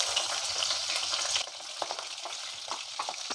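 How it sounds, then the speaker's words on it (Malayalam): Split green chillies frying in hot oil, giving a steady loud crackling sizzle with scattered pops, heard close up and uninterrupted by talk. "പച്ചമുളകൊക്കെ മുരിഞ്ഞ് വന്ന് തുടങ്ങിയിട്ടുണ്ട്."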